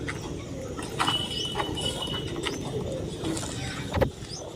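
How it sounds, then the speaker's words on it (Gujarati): Pigeons gathered outdoors around a tree, with a few soft, low coos and scattered chirps rising over a steady background hum of ambient noise. "કેટલા બધા કબૂતર છે"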